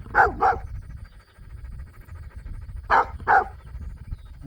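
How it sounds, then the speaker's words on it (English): A dog on a sheep farm barking outdoors in two quick double barks separated by a pause of a couple of seconds, fairly close and loud over faint background noise. "What are you barking at?"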